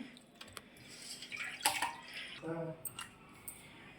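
Raw chicken pieces get washed in water in a home kitchen, with faint splashing and dripping, a few sharper clinks and sloshes, and quiet talk in the background.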